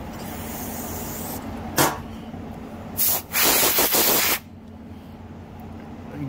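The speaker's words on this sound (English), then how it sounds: "Spray this all off. Blow down through all of our passageways here." Compressed air hisses in short blasts over a quiet background while a riding mower carburetor is sprayed and blown out, first a brief burst, then a longer sustained spray of about a second.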